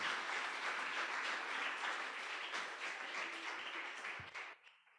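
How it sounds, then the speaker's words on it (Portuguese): A church congregation claps and applauds steadily for several seconds, the dense clapping tapering off and fading out near the end. "Dê uma salva de palmas ao Senhor."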